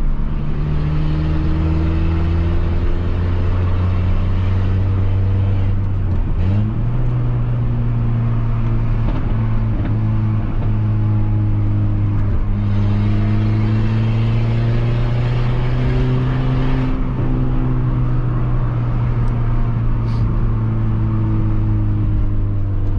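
A Peugeot 206 revs and accelerates in a car park, its engine droning loudly and continuously, with pitch rising and falling over several revs and one short dip before climbing again.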